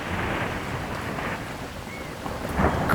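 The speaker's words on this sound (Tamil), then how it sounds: "இந்த மழையினால திறந்து வைக்கவே முடியல" Heavy rain pours steadily with low rumbling thunder swelling near the end, a loud, dense wash of storm noise with no talking.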